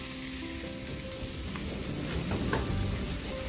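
Codfish fries on a three-burner 28-inch Blackstone griddle with a close, continuous sizzle and crackle, plus brief scraping or stirring touches partway through and no voices.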